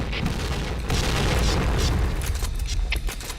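A grenade blast in the shooter game PointBlank, a loud sustained boom with rumbling bursts filling the whole moment, heavy low-end roar continuing throughout.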